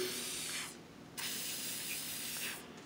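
Lubricant is sprayed onto a garage door mechanism in close, hissing aerosol bursts, with two short pauses between sprays.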